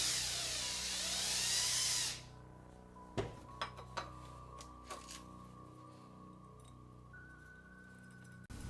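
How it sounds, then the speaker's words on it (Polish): A power drill whirs loudly for about two seconds driving an M3 thread tap, then stops, followed by several light metallic clinks and taps in a quiet room. "Gwintownik M3 na wiertarę"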